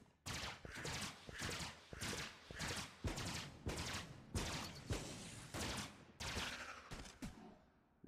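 Three-round bursts of gunfire from a ship's weapon in the space shooter Everspace, fired at a target: a steady series of sharp, loud volleys repeating about every second, with no talk over them.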